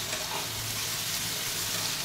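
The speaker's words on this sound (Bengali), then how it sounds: "এবার একসাথে ভালো করে মশলাটাকে কষিয়ে নেব।" Onion, ginger-garlic paste and chopped tomato masala sizzle steadily in a pan, a dense continuous hiss with soft stirring, close and even throughout with no voices.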